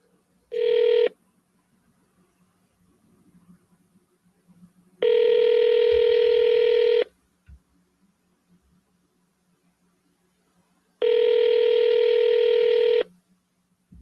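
Outgoing telephone call tones sound while phoning sellers: three clean, loud electronic beeps, the first short and the next two about two seconds long, separated by long quiet gaps with faint room noise between.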